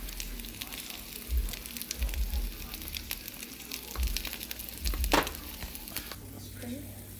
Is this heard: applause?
no